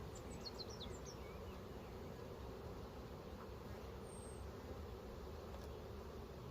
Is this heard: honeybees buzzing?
yes